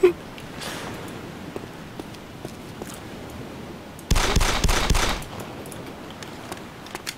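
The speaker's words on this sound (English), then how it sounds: "I heard a revolver. That was me. It was a G17." Rapid cluster of G17 pistol gunshots in the survival video game DayZ, a loud sharp burst lasting about a second after a stretch of quiet background.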